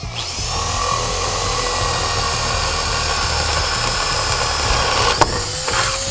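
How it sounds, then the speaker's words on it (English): A power drill bores a hole into the middle of a wooden wall stud in a house frame, a loud steady whine holding for about five seconds, with a brief knock near the end and no talking. "you want to drill your hole into the middle of your wall frame"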